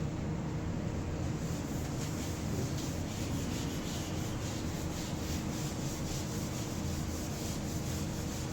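A board top being wiped clean, with a steady, continuous rubbing swish that holds at an even level throughout and has no talk over it.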